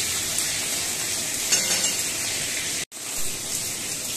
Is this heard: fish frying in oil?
yes